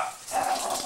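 An old Jack Russell terrier barks as a guard dog in a quick, close outburst lasting under a second, with a thin yelping edge and no talking over it.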